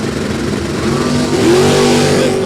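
Pair of 350-engined stock drag racing cars revving hard at the start line, a loud, close, rising engine roar that climbs in pitch and swells near the end.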